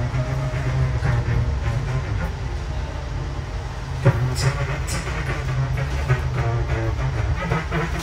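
The Argo Dwipangga Luxury New Generation 2023 train rumbles steadily along the rails with a low continuous roar and occasional clacks, heard from inside or nearby.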